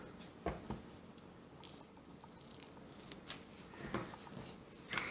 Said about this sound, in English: So I'll just cut the ribbon at approximately there.